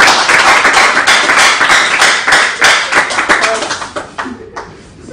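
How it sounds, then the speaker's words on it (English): Audience clapping and applauding at a live broadcast event, loud and close with dense overlapping claps that thin out and fade toward the end. "Some interesting people clapping there."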